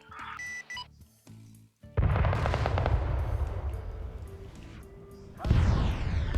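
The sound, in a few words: gunfire from a weapon in a video game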